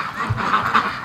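Ducks quacking together in a crowded farm pen where a big group hangs around, a steady overlapping chorus of nasal honks and quacks close by, with no voices.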